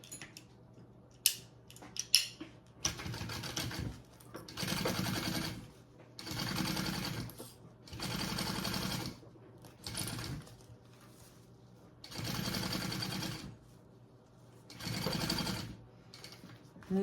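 A sewing machine runs a full seam allowance in repeated steady bursts of about a second each, with short pauses between them. A few sharp clicks, like scissors or handling, come just before the stitching starts. The sound is close and moderately loud.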